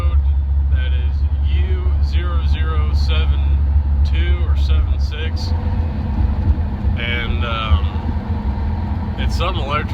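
A GMC Sierra engine with a collapsed lifter and two misfires runs roughly at idle, a steady low drone under someone talking throughout.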